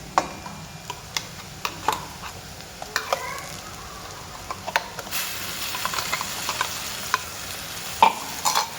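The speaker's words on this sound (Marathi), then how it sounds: "हिरवं वाटणसुद्धा आपण चांगलं फ्राय होऊ द्यायचं आहे" Stirring and frying green masala paste with onions in a pan for brinjal masala: a spoon scrapes and clicks against the pan in spaced strokes over a low, steady sizzle, close and fairly quiet.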